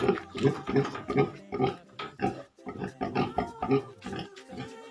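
Large farm pigs grunt and snort repeatedly in a steady, overlapping series of loud nearby oinks, with no people talking.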